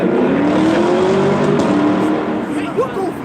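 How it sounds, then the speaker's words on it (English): A Camaro engine revving nearby, a loud droning exhaust note with a rising, sliding pitch that swells and then dips, heard alongside someone talking over it. "You driving a car that sounds like a fart."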